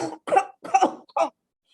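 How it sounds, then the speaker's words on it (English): A person coughs four times in quick, uneven bursts, close and clear, with short silences between and quiet afterward. "suddenly I coughed"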